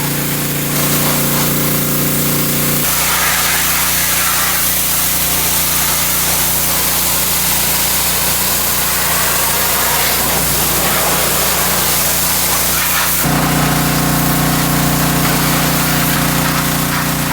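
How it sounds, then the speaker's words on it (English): A pressure washer blasts a neglected car that has sat outside, producing a loud, unbroken roaring spray that shifts in tone as the jet moves across different surfaces. "So I busted out the good old pressure washer and got to work"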